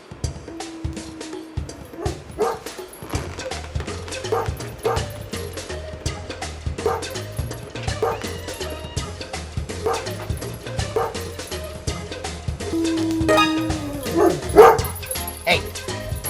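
A small dog named Olive yips and barks in short repeated bursts over a steady low backing of music, with voices speaking now and then.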